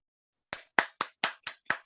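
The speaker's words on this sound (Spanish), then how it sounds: "un gran aplauso para nuestro querido Ramín" A single pair of hands claps six times in quick succession for a speaker, sharp close claps in a slightly uneven rhythm, standing alone against silence.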